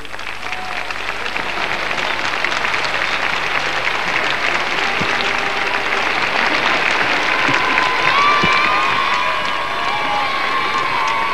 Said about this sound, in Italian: La folla applaude il Papa